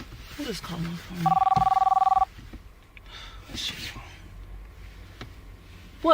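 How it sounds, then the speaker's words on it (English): A telephone rings with a loud, steady electronic tone for about a second, preceded and followed by someone talking nearby. "Who just called my phone?"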